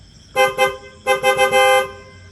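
A car horn honks in two bursts: two short toots, a pause, then a quick series of honks ending in a longer blast, loud and close.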